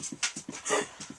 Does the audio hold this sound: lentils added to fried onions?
no